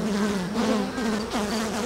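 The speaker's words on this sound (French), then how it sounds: "je me fais donner des coups dans mon habit par les abeilles qui commencent à être irritées" Agitated honey bees swarm close around a hive being opened, a dense, continuous buzzing with wavering pitch and a few sharp surges as individual bees dart near.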